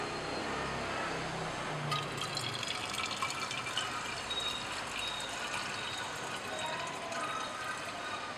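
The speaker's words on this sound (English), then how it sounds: "Allow to cool, and then pour into a separating funnel." Liquid poured into a separating funnel during a Friedel-Crafts acylation workup with benzene and propionic acid, a steady continuous splashing, fairly loud and close, running the whole stretch without speech.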